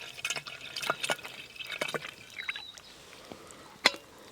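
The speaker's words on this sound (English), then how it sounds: "I'm just going to pour it in my canteen for the journey home." Leftover water poured from a kettle into a canteen bottle outdoors at a bushcraft camp, heard as soft, close trickling and dripping with a few sharper splashes, quiet and without talk.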